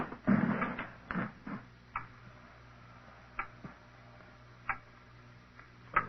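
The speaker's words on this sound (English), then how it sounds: "It's a loud clock, ain't it?" Sharp ticks of a clock sound at a slow, uneven pace in a quiet room, with a few louder knocks early on.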